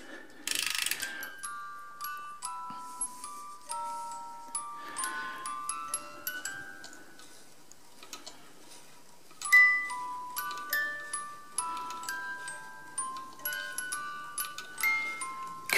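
A wind-up music box inside a circa-1958 Elna Junior toy sewing machine plays a tinkling melody of plucked comb notes with faint mechanical ticking, close and clear, starting after a brief winding rasp and running steadily throughout.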